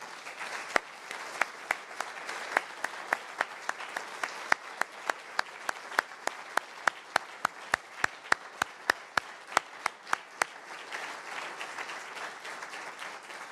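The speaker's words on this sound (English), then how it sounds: "Everyone, one more round of applause for our new honorary doctorates." A university audience at BI Norwegian Business School's Research Day gives a round of applause for new honorary doctorates, heard as fairly sparse, sharp individual claps in a quiet hall, loudest in the middle and thinning out toward the end.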